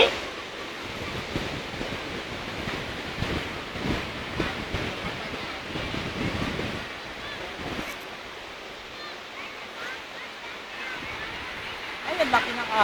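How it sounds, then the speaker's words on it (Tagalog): Large ocean waves break and wash onto the beach at Aplaya de Bermeo in a continuous broad roar, with swells rising and falling. Voices talk faintly beneath the surf. "Ay, ang laki ng alon eh."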